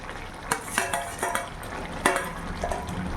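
Pieces of fried rohu fish go into a pot of boiled potatoes in water, with soft clinks of a spoon against the pot, light stirring and a faint bubbling, close and fairly quiet.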